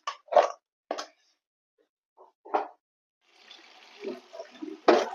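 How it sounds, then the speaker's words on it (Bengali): Vegetables such as cauliflower, beans, onion greens and potatoes rinsed with water in a home kitchen; a few short sounds come first, then a steady wash of running, splashing water near the end. "ভালো করে ধুয়ে নিচ্ছি আমি"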